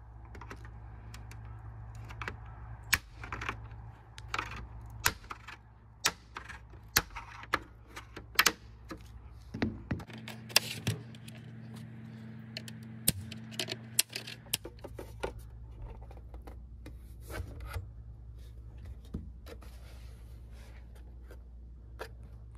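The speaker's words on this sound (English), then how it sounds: "what I'm doing here is I'm just taking my flathead, just kind of twisting it" A flathead screwdriver prying apart a snap-together Xbox One plastic casing gives sharp scattered clicks and cracks, irregular and close, with quiet pauses between them and no talking.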